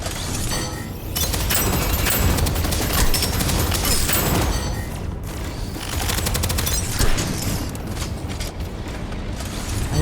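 Rapid gunfire in the first-person shooter Deadzone Rogue, dense bursts of shots mixed with mechanical reload clicks and clatter, loud and continuous across the whole stretch with no talk.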